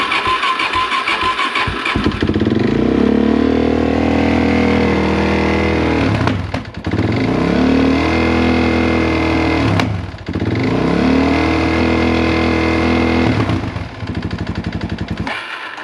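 A Suzuki DRZ400S motorcycle engine with a knock and a carburetor needing adjustment revs loudly and close, climbing in pitch with each throttle blip, then bogs and stalls before catching again in repeated surges.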